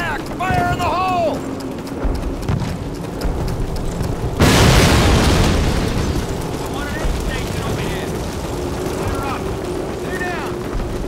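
Grenade blast in Call of Duty's night mission at Sainte-Mère-Église: one loud, sudden booming burst that decays into rumble, amid wind-like ambience and faint radio-style chirps.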